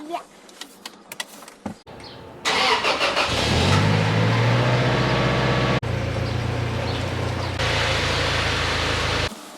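A 2006 Toyota Tacoma truck engine rumbles loud and close, starting up after some clatter and then running steadily as the pickup drives into a garage, with a voice heard briefly alongside it.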